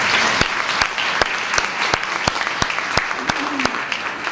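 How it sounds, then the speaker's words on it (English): An awards ceremony audience claps for a spouse in attendance, with distinct loud claps popping through a dense wash of applause, alongside faint voices and a brief tonal sound near the end. "Let's give Mr. Hardy a round of applause."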